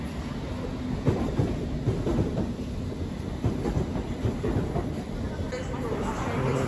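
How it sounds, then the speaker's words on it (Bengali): A London Underground District line train to Richmond pulls into a platform with a steady rumble and clickety-clack. Faint station chatter runs underneath at moderate distance. "তো দেখতেই পাচ্ছি যে ট্রেন এসে গেছে,"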